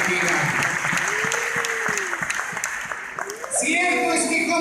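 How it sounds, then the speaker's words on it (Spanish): Loud, sustained applause from a congregation at an evangelical church anniversary service, with a voice speaking over the clapping and some music rising near the end. "Demos fuerte aplauso"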